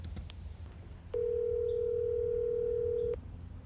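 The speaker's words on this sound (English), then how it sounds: "I'm gonna call back Tara now and confirm her time" A steady telephone dial tone sounds while a call is being placed. It starts abruptly, holds at an even level for about two seconds, then cuts off over faint room noise.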